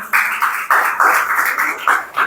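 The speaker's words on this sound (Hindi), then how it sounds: "देवेंद्र के लिए एक बार जोरदार" Loud, close applause from an audience at a school honours ceremony, dense clapping in surging waves with brief dips, no talk over it.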